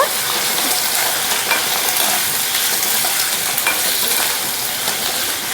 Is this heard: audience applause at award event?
no